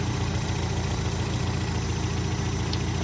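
A 1986 Nissan D21 pickup engine idles on a cold day, a steady, even low rumble with constant vibration, close and unbroken for the whole stretch.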